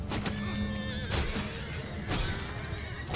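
Horses of mounted horse archers whinny and neigh in a medieval battle in the Bannerlord game, with a few loud close calls over a busy, steady din of hooves and combat.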